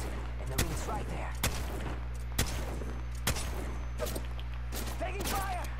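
Gunfire in a video game: a handful of sharp, loud shots spaced about a second apart, with faint voices underneath.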